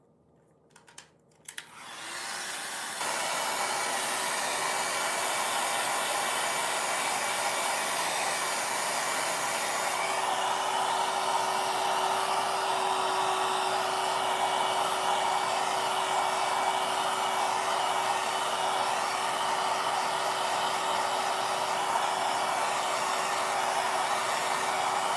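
A nail dryer blows over freshly painted nail polish at a nail salon table, a loud steady whooshing hum that starts after a few faint clicks and runs on unbroken, close and alone.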